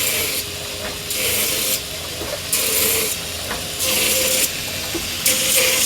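A belt grinder with an 80 grit belt works a knife blade in repeated passes, a steady abrasive rasp that swells louder and harsher with each stroke in a regular rhythm, close and without talk.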